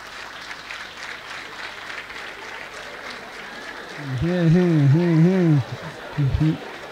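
An audience at a comedy show applauds with a dense, steady patter of many hands, and partway through a voice rises loudly over the clapping.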